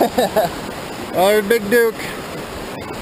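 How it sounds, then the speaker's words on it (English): Small creek flowing along a hiking trail near Summit Lake, Idaho, a steady close water rush running throughout, with brief bursts of a man's speech and a high whistling voice over it. "That's a pretty little stream, huh? Little creek."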